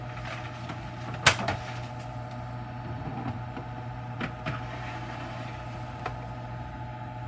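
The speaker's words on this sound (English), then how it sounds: "what I'm going to do now is I'm going to open her up and slide the pan in" A hot-holding cabinet door is opened and a pan of smoked ribs slides inside, giving one sharp clack and a few faint knocks over a steady mechanical hum.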